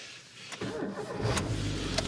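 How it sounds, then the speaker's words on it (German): A Robur truck engine cranks with a brief starter whir, then catches and rises into a rough, rumbling idle, close and getting louder toward the end, on a cold night at -6 degrees. "So, wollen wir den Robo eben anschmeißen und ihn vorwärts in die Halle fahren?"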